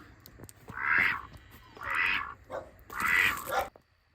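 Three loud, harsh duck quacks from a crossbreed duck of Rouen drake parentage come in separate bursts close to the microphone, with short pauses between them and no talking.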